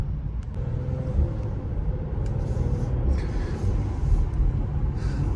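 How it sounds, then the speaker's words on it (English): A 2020 Mercedes C43 AMG's low engine and exhaust rumble drones steadily while cruising, with road noise and a few faint higher clicks above it. "give you guys more exhaust noises"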